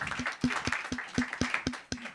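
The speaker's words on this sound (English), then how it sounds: "Clapping time indeed." Audience clapping at a green innovation event in Sofia, a steady rhythmic beat of sharp claps, roughly four per second, loud and close, carrying on without a break.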